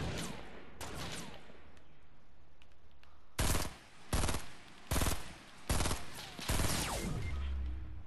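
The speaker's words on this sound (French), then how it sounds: "C'est beau, ça nous tire dessus" Gunfire aimed at players in the battle royale game Fortnite: scattered shots early on, then five loud, close bursts of rapid fire in quick succession, with no voices.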